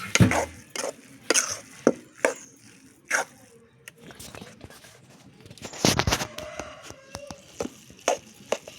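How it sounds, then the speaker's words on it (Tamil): A spoon stirs sauce through a pot of mixed rice being cooked as kootanchoru, giving sporadic scraping knocks and clanks against the pot, with quieter gaps between strokes and no talk. "சாஸ் போட்டோம்னா அதனால் கொஞ்சம் கிண்டிக்குவோம்"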